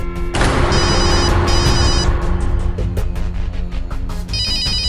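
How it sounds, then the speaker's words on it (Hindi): An electronic ringtone chirps in repeated bursts, a call from a hospital emergency number, over a loud, busy backdrop of music or dramatic sound, continuing steadily throughout. "अरे ये तो अस्पताल से फोन आ रहा है, इमरजेंसी नंबर है।"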